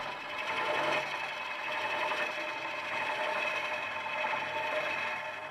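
A woodturning tool cuts big shavings from a spinning hollow form vase on a lathe, giving a steady high whirring hiss with slight pulsing swells, continuous and moderately close.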